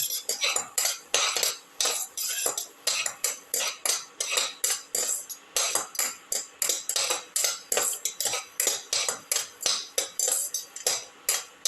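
Shallots and garlic sauté in a pan while a metal utensil scrapes and clinks against it in quick, rhythmic strokes, loud and close, continuing steadily with no talk.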